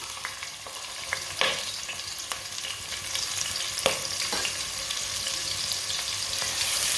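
Finely chopped onion fries in a pan with a steady, bright sizzle, broken by occasional clinks and scrapes of stirring, close and continuous.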